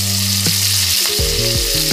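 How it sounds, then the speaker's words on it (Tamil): Tomatoes sautéing in a pan for Chettinad-style chicken masala gravy give a steady, close sizzle of frying with some stirring, and no one talks. "வதங்கிட்டு தக்காளி போட்டலாம்."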